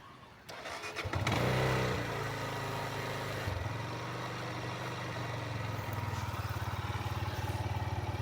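A Benelli TNT25 motorcycle engine cranks, fires and settles into a steady, close, moderately loud idle with a subtle rhythmic pulse, heard alone without talk.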